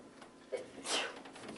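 A single sneeze bursts out partway through a quiet room, moderately close, preceded by a faint sharp intake and with no speech alongside.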